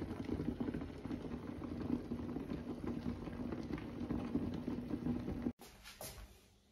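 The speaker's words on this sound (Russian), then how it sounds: "Вот у меня картошка варится на полную мощность и варится без выкипания." Potatoes boil hard in a pot on a stove at full power, a dense, close bubbling and rapid pattering that continues steadily before cutting off abruptly near the end.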